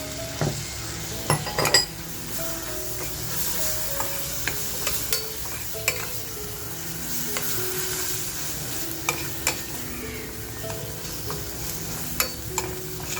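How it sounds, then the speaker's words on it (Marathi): Crushed masala fries in a pan over low flame, a steady sizzle under repeated scraping and clinking of a metal spoon against the pan, close and moderately loud. "बाकीचा जो आपला मसाला आपण ठेचून घेतला होता तो टाकून असा छान फ्राय करून घेऊया"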